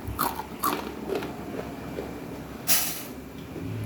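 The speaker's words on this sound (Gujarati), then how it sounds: "આપણે એની ક્રિસ્પી ક્રન્ચી જોઈ લઈએ કેટલી કડક બની છે ને" Crispy barnyard millet flour sev snapped and crunched up close, several sharp dry crackles spaced out over a few seconds, with one louder crunch near the end and no talking.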